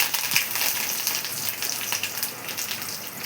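Curry leaves hit hot groundnut oil while cooking Vedaranyam-style poruma kuzhambu, giving a steady, close, crackling sizzle that runs evenly throughout without any voices.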